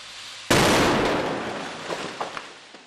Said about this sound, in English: I don't know how severe this explosion is going to be.